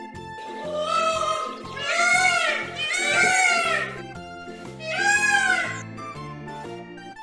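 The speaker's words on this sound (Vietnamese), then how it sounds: "Con công." A peacock gives three long, loud, wailing calls, each rising and falling, set over a light backing melody.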